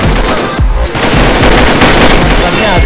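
Rapid automatic gunfire bursts loud and close in a competitive shooter video game match, a dense rattle of repeated shots with a brief gap, while players shout excitedly over it.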